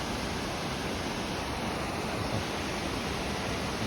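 A clear Himalayan river flows near a trekking campsite, a dense, steady rushing roar of water that fills the whole sound without change, close and loud, with no voices.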